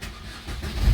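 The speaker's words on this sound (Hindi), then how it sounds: "गाड़ी भी स्टार्ट हो गई।" A Maruti Ertiga engine catches and starts after a no-key-light fault is fixed, a brief close rumble that swells louder at the end, with no one talking.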